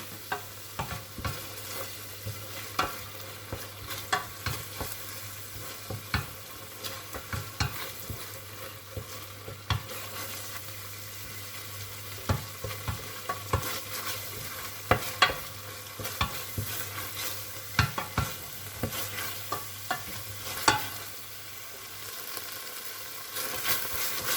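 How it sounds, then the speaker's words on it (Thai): Red curry paste fries in a pan while a utensil stirs it over and over, giving a low sizzle broken by frequent soft scraping knocks in an irregular rhythm over a long stretch, with no voices. "คนไปเรื่อย ๆ แล้วให้พริกแกงแดงเขา แตก ไม่ให้เขาเป็นก้อน"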